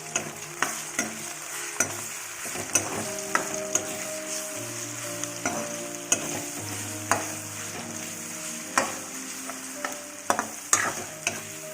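Chicken curry with spices stirred in a pan over medium gas, a spoon scraping the pan in repeated rhythmic strokes over a low steady sizzle, close and clear with no talking.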